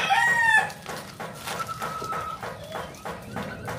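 A yellow-legged hatch broodcock rooster crows loudly and close by, one clear call at the start followed by more clucking and calls from other fowl in the yard, with no talk.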